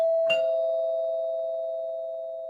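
A house doorbell rings once: a short click followed by a single clear electronic tone that holds and slowly fades over a couple of seconds, with no voices.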